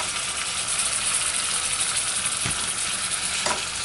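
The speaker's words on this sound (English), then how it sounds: "I'm going to put my leaves in, and I'm going to saute that." Kohlrabi leaves saute with garlic in a pan, giving a steady, dense sizzle that is close and continuous, with a couple of soft knocks as they are stirred.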